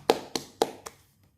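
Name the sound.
applause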